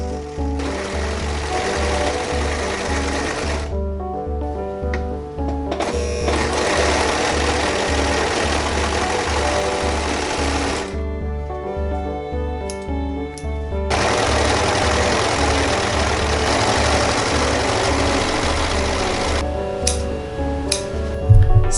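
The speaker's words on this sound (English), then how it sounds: "So I have my overlock machine all set up, ready to clean up some of these." An overlock sewing machine finishes fabric seams in long steady running bursts with a low mechanical hum, pausing briefly between passes and starting up again, close and fairly loud with no talking.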